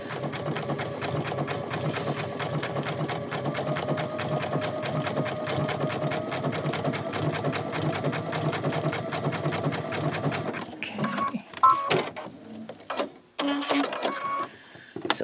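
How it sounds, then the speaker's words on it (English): A sewing machine running a hemstitch with a wing needle, a fast, even mechanical chatter of needle strokes that holds steady for about ten seconds, then breaks into stops, clicks and short bursts. "the needle's going in and out of the fabric several times in the same hole."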